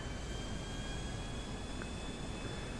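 Steady airplane engine drone from a Tony Hawk Pro Skater video game, a constant broadband whir with faint tonal whine holding at even loudness throughout, no talk.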